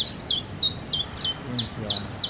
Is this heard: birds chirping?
yes